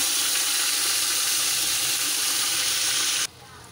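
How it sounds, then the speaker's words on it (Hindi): Browned onions frying hard in a pan as spices go in for a malka dal biryani, a loud steady close sizzle that drops off abruptly near the end, with no talking. "ये हमारे प्याज ब्राउन हो गई है, अब हम इसके अंदर सारे मसाले ऐड कर देंगे।"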